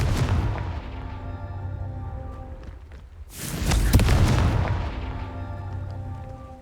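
A Confringo explosion spell goes off in Hogwarts Legacy, where a rumbling, humming background dips briefly before a loud booming burst swells and slowly fades into a low rumble.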